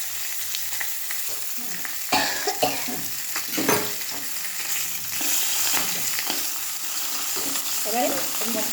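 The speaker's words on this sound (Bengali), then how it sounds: "কালো সর্ষে ফোড়ন দিতে হবে" Black mustard seeds tempering and fish frying in oil for a tomato fish curry give a steady, dense sizzle throughout, with crackles and stirring scrapes rising over it, close to the pan.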